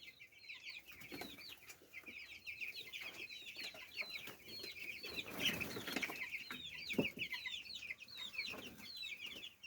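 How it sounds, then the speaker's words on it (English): Two-week-old broiler chickens on a farm give a steady chorus of soft, high peeping clucks, many birds calling at once at close range, with a few brief flaps and rustles mixed in. "My chickens are 2 weeks old."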